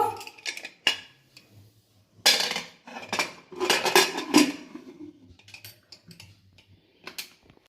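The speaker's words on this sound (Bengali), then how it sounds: "আমি এখন প্রেসার কুকারের ঢাকনাটা লাগিয়ে দেব" A metal lid being fitted onto a pressure cooker while mutton curry cooks: several close clattering metallic clanks and scrapes in irregular bursts, with quieter clicks between them.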